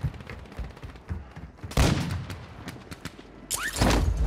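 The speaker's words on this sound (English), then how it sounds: "They're shooting at me." Gunfire in a shooter video game: bursts of rapid shots with sharp loud cracks and booms, one heavy volley midway and another near the end, with no speech.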